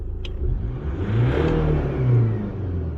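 A Honda Stream engine revving close by with a failing fuel injector, a rough, uneven mechanical drone that swells and eases over a few seconds.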